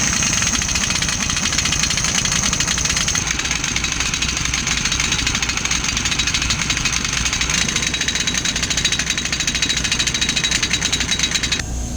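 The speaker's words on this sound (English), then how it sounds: "I guess we'll break out the air impact." An air impact wrench works on U-bolts during a rear axle repair, a loud, continuous rapid hammering rattle that carries on steadily for the whole stretch without pause.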